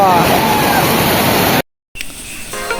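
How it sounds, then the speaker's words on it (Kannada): Kanuru Devkar Falls near Yellapur roars as a steady, loud broadband rush of falling water, cut by a brief silent gap before the torrent resumes slightly quieter. "ಇದು ಕಾನೂರು ದೇವ್ಕರ್ ಫಾಲ್ಸ್ ಅಂತ ಕೂಡ ಕರೀತಾರೆ"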